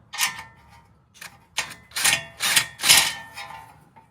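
Screws are turned by hand into wall anchors in a garage, giving a run of short ratcheting, clicking bursts of roughly half a second each, close and fairly crisp, with no talking.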